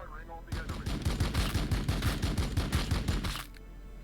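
Space Marines firing in Warhammer 40k Battlesector: a sustained, loud burst of rapid automatic gunfire with evenly spaced reports, lasting about three seconds and then cutting off abruptly.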